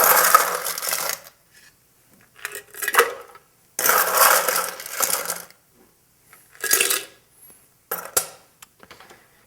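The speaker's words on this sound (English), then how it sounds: "Now add my ice." Ice cubes tumble and clatter into a glass for an Opera cocktail, sharp glassy clinks and rattles arriving in several separate bursts with short silences between them.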